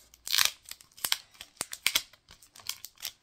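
Crinkly plastic packaging for K-pop group merchandise is torn and crumpled open in a series of sharp, close, bursty rips and rustles, some with a snipping quality, with no talking.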